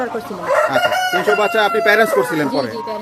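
Several Tiger-breed roosters crow loudly and repeatedly, overlapping one another, with hens clucking in a busy, crowded poultry farm coop throughout.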